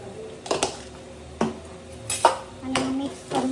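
A utensil clinks against a metal pan or bowl while turmeric and spice are stirred into food, with several separate scraping taps and knocks spread across the moment, close by and moderately loud, with no talking.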